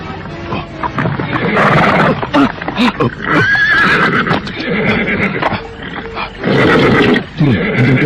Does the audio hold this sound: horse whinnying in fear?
yes